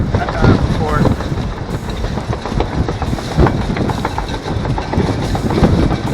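An unfurled boat sail furler flaps in strong wind in a marina with white caps, heard as a continuous loud rush of wind buffeting the microphone with repeated flapping bursts and rattles, and no clear talk.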